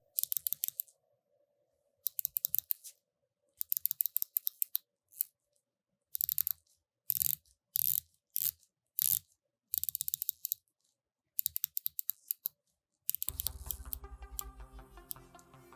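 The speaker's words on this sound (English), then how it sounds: "The clicks are more precise than your typical Seiko bezel, but it still has a relatively soft, dampened feel" Bezel of a Seiko Sumo SPB321 dive watch turning in bursts of quick, close, crisp clicks separated by silent pauses, followed by a soft mechanical rattle at the end.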